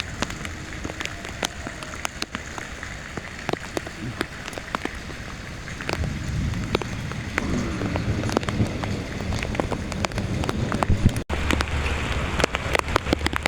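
Steady morning rain falls in Dhaka, a dense continuous patter of drops striking surfaces nearby, with occasional louder splashes and light wind rumble through the whole stretch.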